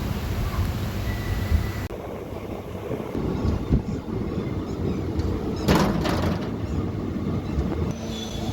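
A nearly empty passenger train runs between Jetalsar and Jetpur, heard from inside the coach as a continuous close rumble with rattles, a clattering jolt and brief wheel squeal.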